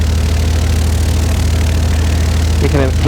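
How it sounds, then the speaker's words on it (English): A light aircraft engine runs loud and steady at close range, revving to about 1200 RPM with a continuous throbbing drone, and a brief voice comes in near the end. "engine started, we're going to get the RPM up to 1200 first"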